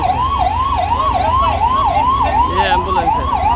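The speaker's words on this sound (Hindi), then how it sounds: "ये देखो, ये एम्बुलेंस है" An ambulance siren wails in a repeating rising-and-falling cycle while the ambulance sits stuck in a traffic jam, loud and close over low traffic rumble.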